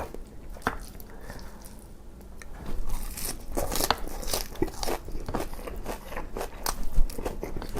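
Biting and chewing crispy fried pork cutlet with melted cheese inside (cheese donkatsu) with Japanese curry, close crunches and sharp crackles repeating rapidly and growing louder, with no talk.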